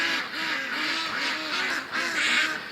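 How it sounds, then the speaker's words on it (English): Startled ducks in a pen at night quack loudly and repeatedly in a steady, overlapping chorus of harsh, nasal calls, close by and continuous with no talk. "Just freaked the ducks right out though when they landed."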